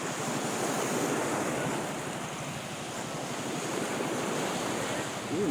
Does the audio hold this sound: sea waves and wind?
yes